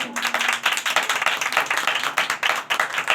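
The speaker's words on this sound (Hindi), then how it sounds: "आइए निजात के लिए जोरदार तालियां" A congregation at a Hindi-language church service claps loudly in a fairly rhythmic burst, dense repeated claps pulsing steadily for a few seconds up close.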